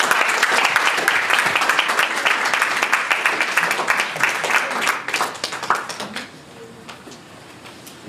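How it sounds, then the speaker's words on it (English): An audience at a creativity conference in New York applauds, dense clapping that holds steady for several seconds, then thins into a few scattered claps before fading out. "Round of applause."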